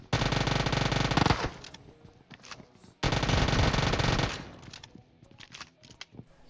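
Two long bursts of rapid Uzi submachine gun fire in PUBG, each lasting over a second, followed by scattered softer shots and clicks.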